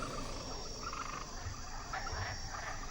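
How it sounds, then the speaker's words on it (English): Dense chorus of frogs croaking, with insect-like chirring, continuous and fairly faint, for an animated retelling of the Bible plague of frogs in Egypt; no voices. "Ask Jehovah to take away the frogs."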